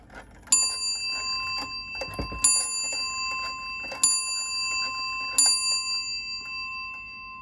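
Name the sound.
restored antique clock ticking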